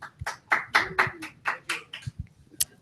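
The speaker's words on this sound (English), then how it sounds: "Everyone clap for King of All Technology." A handful of people clap for the King of All Technology at a live Ironman Texas gathering, around ten distinct, uneven claps ringing out near and fairly quiet, with a stray knock or tap mixed in.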